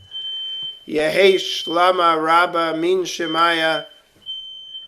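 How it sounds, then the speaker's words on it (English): A fire alarm gives a steady, thin high tone under a man chanting prayers at a Friday night service, and the tone carries on after the voice pauses. "That was my fire alarm."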